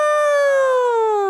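A voice imitates a rising-then-falling air raid siren wail in a single sustained tone that slowly drops in pitch, loud and close, with no other sound.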